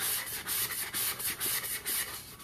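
Sandpaper rubs against the inside of a cup in quick, rhythmic strokes, about nine close, scratchy passes with no voices.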